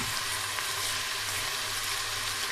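Garlic and ginger fry in a pan for a karela gosht, giving a steady close sizzle and hiss with no pauses and no voices.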